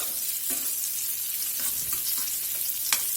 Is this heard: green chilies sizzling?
yes